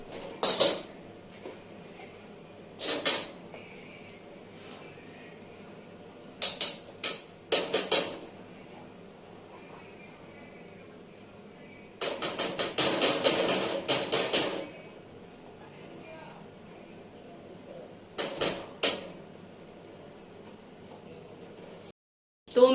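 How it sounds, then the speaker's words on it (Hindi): Ghee is spooned into a kadhai in a few spaced bursts of metallic clinking and scraping, spoon against the wok, with quiet pauses between each scoop and no speech over it. "तो मैंने घी इसमें डाल दी है। ये मैंने 3 चम्मच करीब घी इसमें डाला है।"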